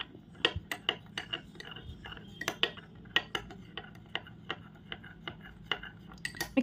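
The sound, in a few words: mixing water and gum for slime in a bowl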